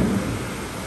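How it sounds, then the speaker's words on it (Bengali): Heavy rain pours down in a dense, steady roaring hiss that fills the brief moment without pause. "হেভি জোরে বৃষ্টি হচ্ছে।"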